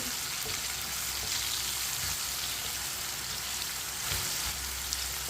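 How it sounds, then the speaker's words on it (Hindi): Tomatoes frying over medium heat in a pan while being stirred with a spoon, a steady sizzling hiss with faint scraping of the spoon, close and continuous, with no talk. "इसी तरह चम्मच चलाते हुए मीडियम आंच पर टमाटर को पका लें।"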